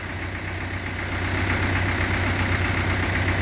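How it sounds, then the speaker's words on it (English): A Mercedes-Benz 240D diesel engine idles steadily with a low, rumbling hum and faint knocking, continuous and close throughout. "listen to that diesel engine hum"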